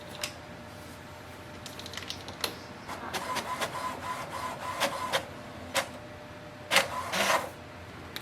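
An HP OfficeJet 200 printer runs a printhead cleaning cycle, giving a series of soft mechanical whirs and short clicks. Several louder bursts come near the end, all heard alone without talk.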